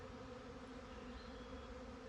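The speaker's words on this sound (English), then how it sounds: "We've just had a swarm of bees go over the house, over the top, and we're attempting to catch them." A honey bee swarm passes over an English country cottage, a faint, continuous humming buzz spread wide overhead, steady and alone without talk.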